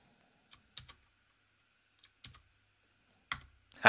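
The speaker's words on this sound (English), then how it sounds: "Why am I typing?" Typing on a computer keyboard on a Mac, with sparse, close clicky keystrokes in small bursts separated by pauses, ending with a couple of heavier key presses.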